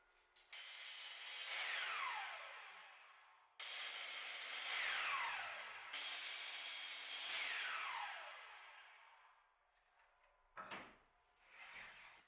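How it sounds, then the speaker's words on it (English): A miter saw fitted with a stop block on its fence cuts wooden boards to identical lengths, three loud whining passes of several seconds each, followed by a few short knocks as pieces are handled. "I attached a stop block onto the fence of the miter saw"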